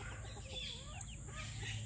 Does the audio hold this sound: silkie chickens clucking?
yes